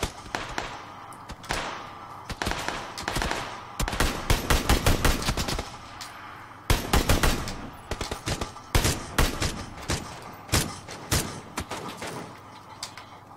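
Repeated gunfire in the battle game PUBG during duo play, with scattered single shots and rapid bursts over about thirteen seconds, sharp and fairly close, with no talk.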